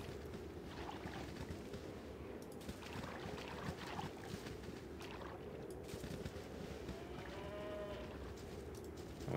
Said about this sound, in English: Oh, I can hear the cows from the